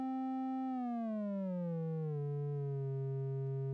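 A Computone Lyricon wind synthesizer holds a single sustained tone whose pitch slides smoothly downward by about an octave as its glide control is turned, bright and buzzy with rich harmonics, heard alone without any talking.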